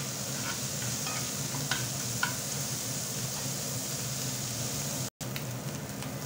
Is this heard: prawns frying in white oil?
yes